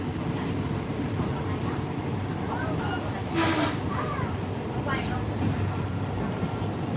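Train running on a line toward Bangkok in Thailand, heard from on board as a steady broadband rumble and rattle, with a brief hiss of air or brakes midway and faint voices underneath.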